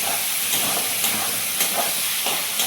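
Fish added to hot masala for ritha macher kosha, producing a broad, steady hissing sizzle with a few sharper spits, close and fairly loud, with no talking.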